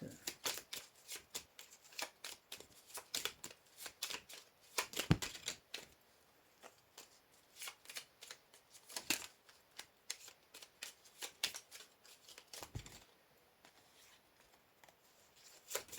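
Tarot cards being reshuffled by hand in quick, crisp riffling bursts, separated by short pauses, close and fairly quiet with no talking over them.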